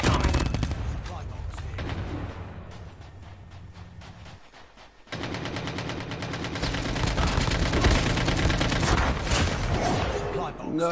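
AK-47 fire in the mobile shooter Call of Duty Mobile, dense rapid automatic bursts nearly continuous and loud, with a short lull midway before heavy firing resumes; a voice talks over parts of it.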